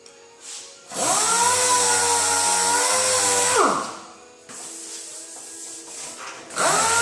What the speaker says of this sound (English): You can come back with either 400 grit by hand or a red Scotch-Brite, which is what I'll use on this.